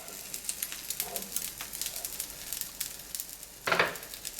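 Omelette batter fries in a non-stick fry pan with a soft, steady sizzle and scattered pops, ending in a brief louder hiss.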